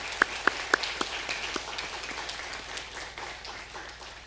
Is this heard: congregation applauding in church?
yes